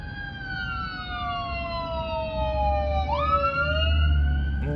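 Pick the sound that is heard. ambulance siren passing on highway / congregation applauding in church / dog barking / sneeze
ambulance siren passing on highway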